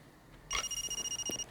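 A short electronic phone ring in the video game Far Cry 2 trills rapidly, bright and beeping, for about a second over faint background.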